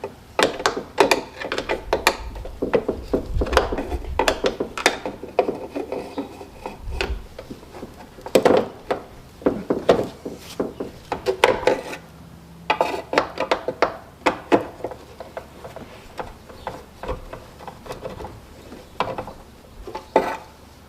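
A long T-handle wrench turns spoiler bolts on a 2024 Ford Mustang GT in a garage, giving close metallic clicks, scrapes and rattles that come in irregular bursts for about twenty seconds.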